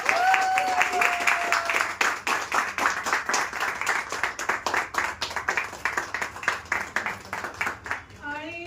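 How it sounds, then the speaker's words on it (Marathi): A crowd claps steadily and warmly for several seconds at a girl's tenth birthday celebration, the applause close and continuous, with a few voices chattering beneath it. "तर सगळ्यांनी जोरात टाळ्या वाजवा."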